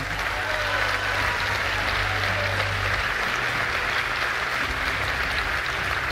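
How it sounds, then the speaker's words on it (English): A large ceremony audience at the European Inventor Award 2023 applauds as the Lifetime Achievement Award winner walks onstage, a continuous roar of clapping with low hum underneath, steady throughout. "please give a huge round of applause as we welcome onto stage the winner of this year's Lifetime Achievement Award"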